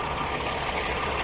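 A truck engine runs steadily, a broadband rumble with a low, even drone that holds at constant loudness and close range, with no talk over it.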